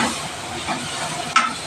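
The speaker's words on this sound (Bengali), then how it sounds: "এবার মশলাটা দিলাম, তো এবার একটু ভালো করে কষিয়ে নেব।" Spice masala of cumin powder, coriander powder and Kashmiri red chili powder sizzles in a hot pan, a steady close hiss with a brief scrape near the end.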